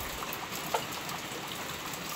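Steady rain falling in the mountains during low-pressure weather, an even wash of drops heard alone with a single brief tap partway through.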